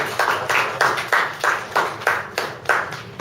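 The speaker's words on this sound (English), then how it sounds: "Give ourselves a round of applause there." A small audience at a Toastmasters speakers' forum claps in a brief burst of applause, the hand claps sharp, fairly close and loosely rhythmic, with no talking over them.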